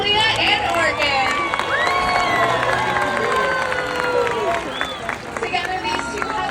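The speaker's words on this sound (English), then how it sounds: "Let's everyone give a round of applause for Kalia and Orchid." An audience at a killer whale presentation claps and cheers for two orcas, a sustained roar of applause and crowd noise with excited voices and whistles layered through it, steady and loud throughout.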